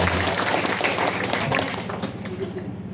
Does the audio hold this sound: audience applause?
yes